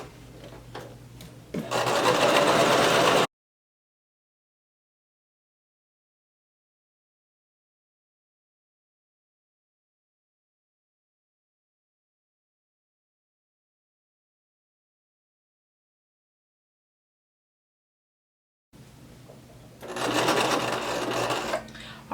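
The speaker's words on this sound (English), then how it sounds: "So go ahead and start sewing, backstitch, and we're going to continue sewing all the way until we get to the other side seam" A sewing machine stitches gathering rows across a maxi skirt in two short bursts, one near the start and one near the end, separated by a long silent gap.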